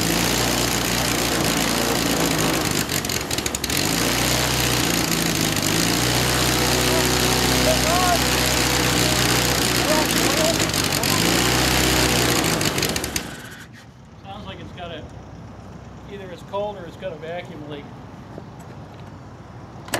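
An Aero Vee aircraft engine fires up on its first start, running loud and rough for about thirteen seconds before abruptly cutting out, followed by quieter ambient noise and voices talking.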